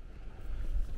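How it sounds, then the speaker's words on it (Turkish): Light wind gusting around a tent pitched behind a rock wall high on snowy Mount Erciyes in winter, a steady low rumble of buffeting that swells louder toward the end, with no voices. "Hafif rüzgar esiyor ara ara."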